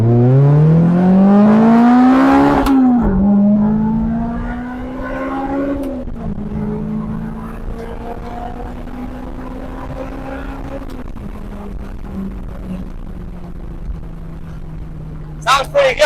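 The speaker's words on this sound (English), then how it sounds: "once I get up there in RPM, you'll hear that variable valve timing and lift integration kick in" A 2005 Lotus Elise engine revs hard through rising RPM with a sharp tonal climb and a shift as its variable valve timing and lift kicks in, then settles into a steady, loud drone while driving, heard up close with no talk.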